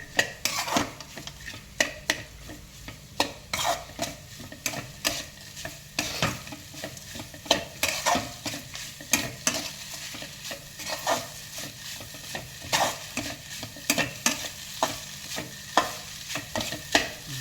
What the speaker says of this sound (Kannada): ಎಲ್ಲ ಮ್ಯಾಗಿ ನೂಡಲ್ಸ್ ಹಾಕಿ ಎಲ್ಲ ಮಿಶ್ರಣ ಮಾಡಬೇಕು